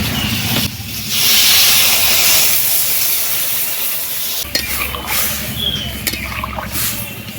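Water poured into a hot pan of food seasoned with salt and turmeric sets off a loud, steady hiss and steamy sizzle, with a few sharp clinks of stirring.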